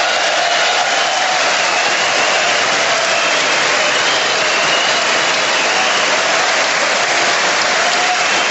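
Sustained applause fills a large hall at a State of the Union address, a dense, loud, even wash of clapping from a big crowd lasting throughout without a break.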